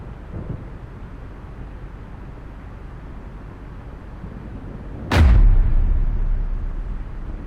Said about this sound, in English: Date, do you like fireworks?